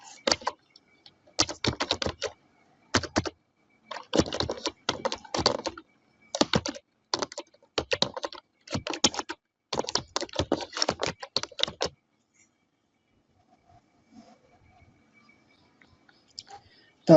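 Rapid bursts of keystrokes on a computer keyboard as a student's name is entered into a form, clattering in irregular clusters for about twelve seconds, then falling silent.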